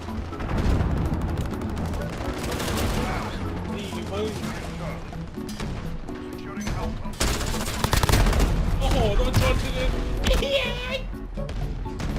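Rapid bursts of automatic gunfire and scattered single shots fill a Call of Duty match, loud and nearly continuous, with players talking excitedly over the shooting.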